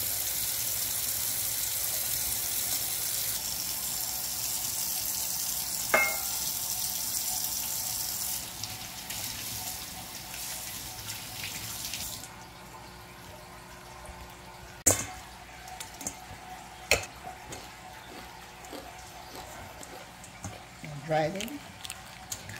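Shrimp being rinsed under a running kitchen tap, a steady rush of water that stops partway, followed by drips, splashes and handling noises.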